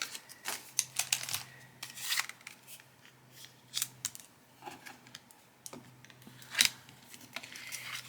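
Scissors cutting paper for a handmade card, a series of close, crisp snips and slicing strokes at irregular intervals with quiet rustling between them.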